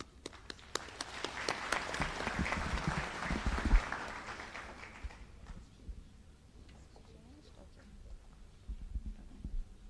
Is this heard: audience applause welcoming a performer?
yes